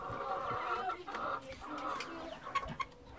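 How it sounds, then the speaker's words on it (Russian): A busy flock of two-month-old Marans chickens clucking and calling, with short crowing cries from young roosters rising now and then over steady background chatter. "Уже петушки песенки поют."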